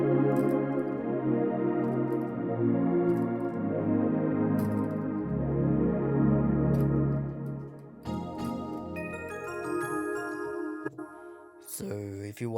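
Synth pad sounds from a Yamaha PSR arranger keyboard, lush sustained chords swelling and shifting, shimmering brighter tones entering near the end, moderately loud with no voice over them.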